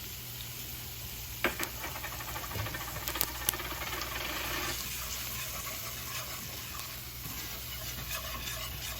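Flour goes into hot oil for a homemade gravy, giving a steady, close hiss with a few stirring knocks against the pan near the start, continuous throughout without any talk.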